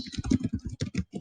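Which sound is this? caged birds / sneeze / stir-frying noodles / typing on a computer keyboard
typing on a computer keyboard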